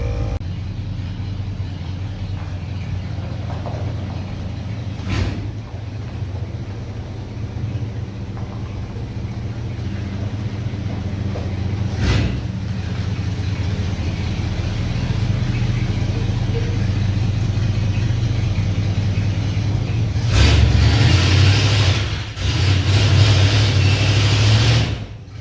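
An old Dodge truck engine with a freshly rebuilt carburetor idles steadily in a shop, a smooth low rumble held at an even level, with a brief rise near the end and no talking.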